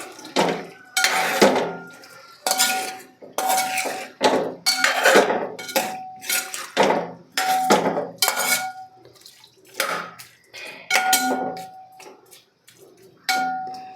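Food for a Kerala tapioca and sardine dish stirred in a pot with a metal utensil, sending out loud, rhythmic clanks and scrapes in steady bursts with brief gaps between them.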